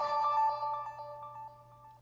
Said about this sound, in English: That was probably some notification because I didn't turn notification alarms off.